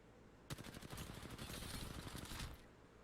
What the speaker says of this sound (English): a whole stream of those rounds went right over that dude's head